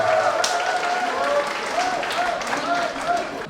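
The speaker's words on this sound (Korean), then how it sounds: "박수와 함성 함께 보내주시길 감사드리겠습니다." A crowd claps and cheers at a dance sport competition held in a sports restaurant in Busan. Loud, sustained applause mixes with shouting and a sung or amplified tone running underneath throughout.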